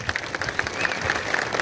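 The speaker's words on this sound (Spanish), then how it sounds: "a quien le pido un aplauso para ella" A small audience at the opening of the San Gabriel children's club in Rincón briefly applauds Beatriz Metol, a moderate patter of clapping from a modest crowd, fairly soft and short.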